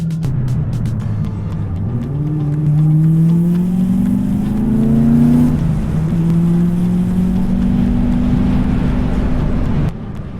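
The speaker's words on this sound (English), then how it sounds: "This thing feels so smooth, the engine sounds so good right now." A Nissan Z sports car engine revs up and holds a strong, smooth note, its pitch climbing and settling through several rises over about ten seconds, loud and close with no talking.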